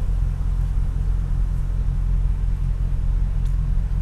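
A deep, steady engine rumble from a Camaro SS fitted with a truck engine, cruising along, low and droning throughout with no talking.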